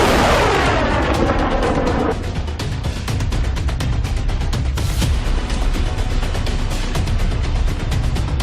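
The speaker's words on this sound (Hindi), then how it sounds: "सैन्य ठिकानों पर एक और जगह से पहले से भी बड़ा धमाका होता है।" Large explosions at a military site struck by drones in the Armenia–Azerbaijan conflict: a loud continuous roar of blasts and rumbling debris with sharp crackling bursts throughout, dense and close, no voices.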